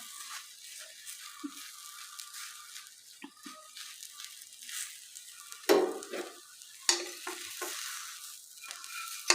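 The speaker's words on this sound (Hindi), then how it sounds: "अब ब्रश से हमने इनको तमाम को ऑयल लगा देना है।" Sandwich frying in an oiled pan over low heat while a brush spreads oil across it, a quiet steady sizzle with soft scraping and two sharper clinks of utensil against the pan.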